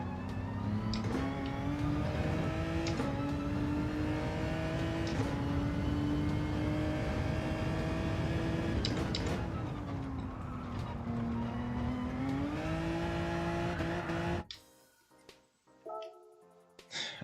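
A race car in a video game screams at full throttle around Bathurst, a loud, steady high-revving engine whose pitch rises and dips through gear changes before cutting off abruptly, leaving a few faint engine bursts.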